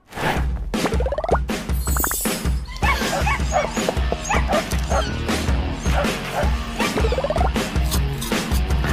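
A cartoon dog barks and yips repeatedly in quick, loud bursts, with some whimpering between barks, over the busy animated soundtrack.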